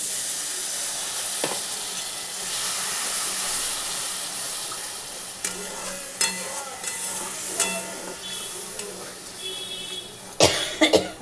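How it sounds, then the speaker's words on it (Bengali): Water poured into a hot pan of spiced potatoes for aloo dum, giving a steady hiss and sizzle with scattered sharp clatters and pops toward the end, no talking. "আগে জলটা দিয়ে দিই আমি"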